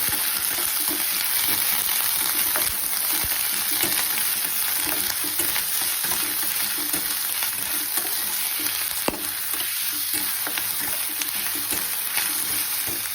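Finely chopped onion frying in oil until browned for dum aloo, giving a steady, dense sizzle that runs evenly throughout, close and fairly loud.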